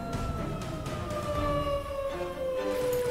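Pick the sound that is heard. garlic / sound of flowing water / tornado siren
tornado siren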